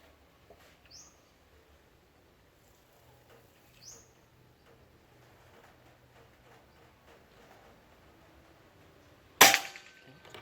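A single sharp, loud shot from a Bocap Pajero Gen 5 full-CNC PCP air rifle, filled to around 2100–2200, cracks near the end after a long quiet stretch with faint background chirps.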